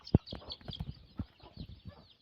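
Free-range village hens and a red rooster, about two months into rearing, give scattered short clucks, one sharp loud note at the start followed by softer irregular clucks nearby.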